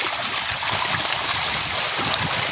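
Milkfish feeding at the water surface in the morning make a steady, close rush of splashing and churning water that runs without a break.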